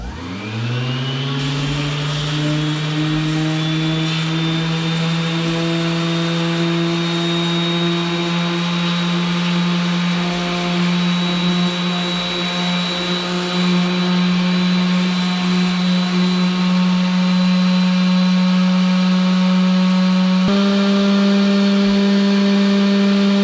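A power sander running steadily at 120 grit on curly maple knife scales for a hunting knife, a loud continuous motor whine with a pitch shift near the end and no talking.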